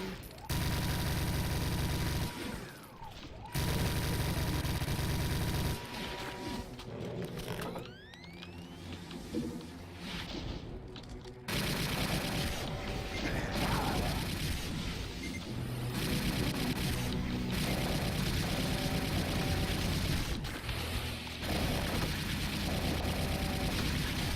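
Doom 2 gunfire and weapon shots during a playtest level, dense mechanical bursts and clattering over continuous game music and ambience, loud throughout with a brief lull in the middle.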